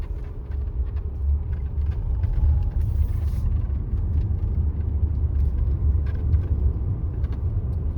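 A car driving along a mountain road with supports along its side, its engine and tyre rumble steady and close, heavy in the low end, with a brief hiss partway through and no talking.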